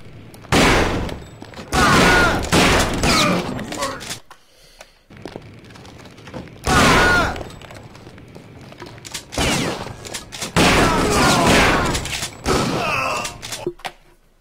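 Loud, close gunshots in Kingpin come in several sharp separate bursts with short pauses of near silence between them.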